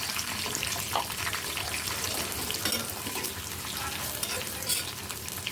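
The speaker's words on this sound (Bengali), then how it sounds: "দিয়ে দিলাম পেঁয়াজ কুচি," Chopped onions fry in hot oil with bay leaf and cinnamon while being stirred, giving a steady, fairly faint sizzle with occasional scraping clinks and no talk.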